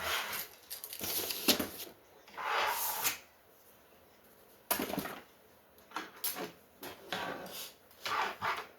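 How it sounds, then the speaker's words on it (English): Wooden drawer handled during stuffed-bear crafting: several separate scrapes and thumps with rustling in between, close by and fairly quiet, no talking. "Let's put it in the drawer."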